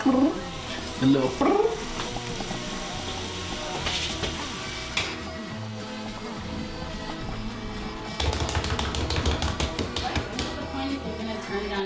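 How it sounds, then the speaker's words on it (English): Carrots sizzle in a pan with a steady frying hiss, joined by clinks and tapping of a utensil, with brief voices near the start. "Just give it a second to sizzle up a little bit."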